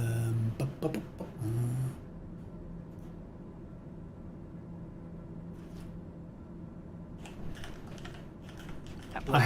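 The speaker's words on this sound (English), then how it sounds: "I have a very noisy keyboard." Noisy computer keyboard being typed on during a TBM930 flight-simulator session, bursts of clicking keystrokes at the start and again near the end, with quiet background hum between and a voice briefly heard.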